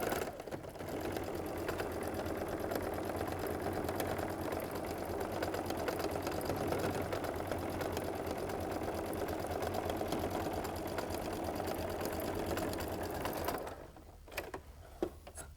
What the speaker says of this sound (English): Now I'm going to come here and sew my 1/4 inch seam.